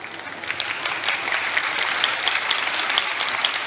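An audience at a book-fair talk claps together, a dense steady burst of applause that stays loud and even throughout, with no voice rising above it.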